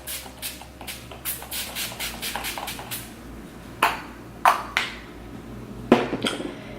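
A series of short, crisp bursts of Wet n Wild Natural Finish Setting Spray, a quick run of puffs followed by a few louder separate spritzes, close up and alone.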